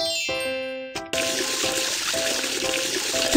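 After a short musical chime, a steady rushing stream of tap water runs continuously at moderate volume in the Baby Bus children's game, with faint tinkling tones underneath.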